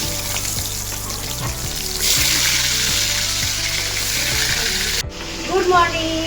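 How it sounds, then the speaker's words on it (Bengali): Katla fish fries in a pan, with constant sizzling and crackling oil, some clinks of a utensil against the pan and a burst of louder hissing partway through. "কাতলা মাছ ভাজা হয়ে গেছে এবার কমপ্লেট মাছটা ভেজে নেব"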